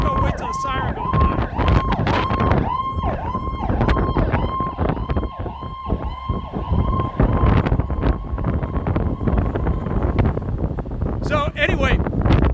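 Outdoor wind buffeting a microphone during a press statement after a parole board hearing, low rumbling gusts throughout, with a wailing police siren passing in the background and brief voices.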